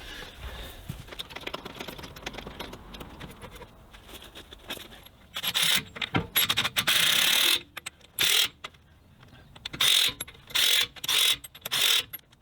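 A jack lifts a 1980 F-350 service truck with rhythmic ratcheting clacks, first faint and irregular, then loud, close bursts of repeated mechanical pumping separated by short pauses.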